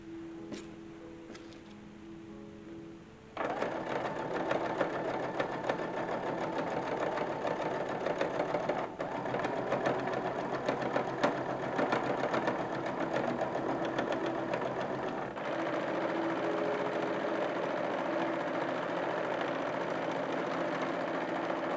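A sewing machine stitches piping into the neckline and armhole of an 1850s-style printed cotton dress, running in a loud, steady, continuous whir for most of the stretch after a brief quieter start, with one short pause near the end.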